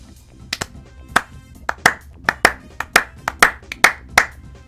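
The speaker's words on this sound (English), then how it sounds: "we have to clap for this one" Hands clap in a loose, uneven run of about a dozen sharp, close claps over a few seconds, with no talk over them.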